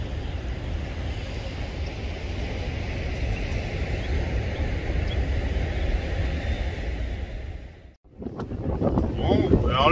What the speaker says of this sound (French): alors le vent se lève un peu